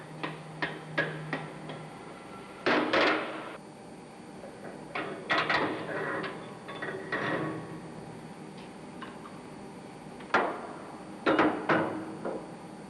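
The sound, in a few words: tin hammer lightly tapping a seized valve spindle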